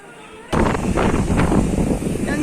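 Strong wind buffets the microphone in a steady, loud roar that begins abruptly and holds without letup, filling the whole clip with broadband rumble and hiss.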